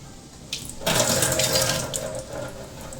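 Running tap water splashes as something is washed under it in a kitchen, a close, steady rush that starts abruptly after a short clatter and continues without speech.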